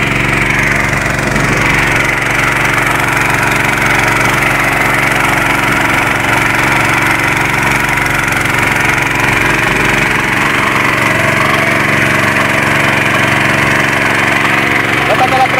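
Outboard motor on an inflatable boat running steadily throughout, a continuous droning engine hum with broad wind and water noise, close and loud.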